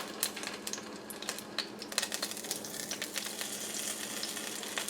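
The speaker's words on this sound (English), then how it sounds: "I'm going to put this cube steak in the pan" Cube steak sizzles in a frying pan, a soft continuous crackle dotted with quick popping spatters, moderately close and steady throughout.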